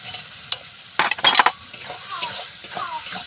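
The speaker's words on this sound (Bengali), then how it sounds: "এবার পটলগুলো ঢেলে দিলাম" Pointed gourd (potol) is tipped into a pan where red chilies have been frying, then stirred, making a burst of sizzling and scraping clatter near the middle, then a softer sizzle with occasional light knocks.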